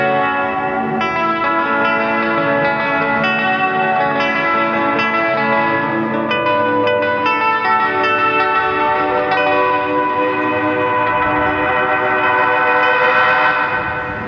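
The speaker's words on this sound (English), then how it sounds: "our Meteor low fidelity reverb" Electric guitar played through a Carolina Guitar Company Meteor low-fidelity reverb pedal, sustained chiming chords washing into a cavernous, smeared tail that fills the whole passage with no voices.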